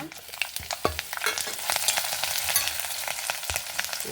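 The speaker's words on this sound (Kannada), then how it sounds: "ಈ ಹಸಿಮೆಣಸು ಹಾಕಿಬಿಡುವ." Green chillies crackle and spit in hot tempering oil with mustard seeds and split urad dal, a dense close sizzle broken by sharp pops and the scrape of stirring, with no voices.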